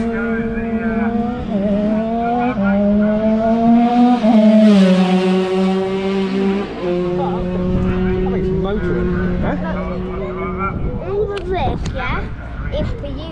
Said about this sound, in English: Sounds like a big race car.